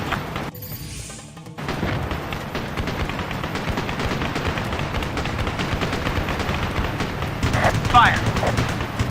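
Machine gun fire from the Ace Combat Assault Horizon air-combat video game: a dense, continuous, loud rattle of gunfire with booming explosions, heard alongside radio chatter and engine roar.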